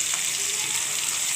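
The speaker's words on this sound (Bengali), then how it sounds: "আরও 1 পিস ভালোভাবে লাল লাল করে ভেজে নেব" A fish piece frying until reddish gives a short burst of steady, close sizzling hiss with a faint stir. No voices are heard.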